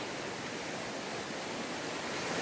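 Big river running muddy after rain, its water flowing as a steady, loud broadband rush with no breaks, close by and filling the scene with no voices over it.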